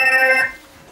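A mobile phone rings when a Roborior home surveillance robot places a call, giving a brief bright electronic ringtone that sounds once and fades within half a second.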